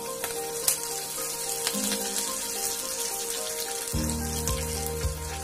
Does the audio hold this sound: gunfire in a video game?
no